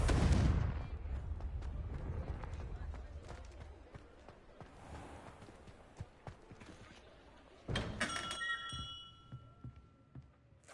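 Confringo fire spell blast in Hogwarts Legacy: a loud booming burst at the start that decays into clattering game ambience, then a second sharp impact with a bright ringing shimmer near the end, with no talking.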